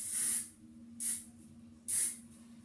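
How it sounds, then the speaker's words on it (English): Hairspray misted over hair during a makeup routine, three short, close hissing sprays evenly spaced a moment apart, with no talk. "you spray this all over your hair"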